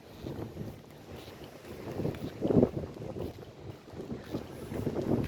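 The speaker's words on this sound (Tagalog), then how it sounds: "Mahangin ngayon." Gusty wind buffets the microphone in uneven rumbling bursts, rising and falling throughout, with no talking.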